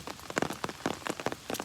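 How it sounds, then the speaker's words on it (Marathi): Heavy monsoon rain falls in a forest near the Kondane caves below Rajmachi, its dense patter of drops striking surfaces in steady bursts, close and alone with no voices. "तिथून तिवऱ्याच्या इथून लागला ना पाऊस, तसं भरपूर बेकार लागला पाऊस मित्रांनो."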